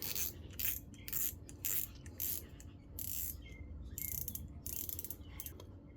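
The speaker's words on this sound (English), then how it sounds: "Shimano has that cheap triangular drag clicker just there" The drag clicker on a Shimano Sedona FJ 2500 spinning reel is tightened down, giving several short bursts of rapid, close ratcheting clicks separated by brief pauses.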